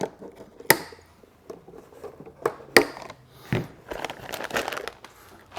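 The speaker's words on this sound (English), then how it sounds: "let's get this piece released from its packaging" Packaging coming off a Traxxas Rally Fiesta ST RC car: sharp crinkles and tearing bursts of plastic and cardboard, close up and irregular, with quiet pauses between handling sounds.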